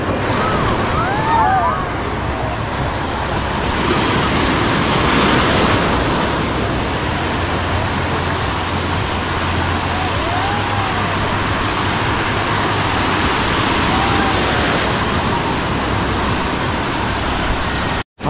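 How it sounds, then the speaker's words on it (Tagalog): A strong current and surf rush along the shore, with wind buffeting the microphone in a loud, continuous roar. A brief human call rises briefly near the start. "Malakas ang agos sa gilid"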